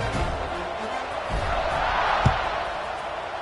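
Stadium crowd in the Madden NFL 25 video game, a steady broad roar of many voices holding through a kickoff, with a brief thump near the end and no distinct speech.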